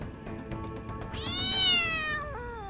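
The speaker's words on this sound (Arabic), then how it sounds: "ابتعدي عني أيتها القطة الشريرة" A cat in an Arabic-dubbed animated adventure series gives a loud, drawn-out rising and falling meow over a steady musical background, with no talking.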